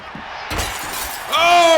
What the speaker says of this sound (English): Oh, the glass breaks.